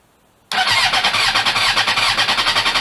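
A 2007 Suzuki GSX-R 750 motorcycle engine cranks and catches after a rebuild, bursting from silence into a loud, close, rapidly pulsing run that holds steady for a few seconds.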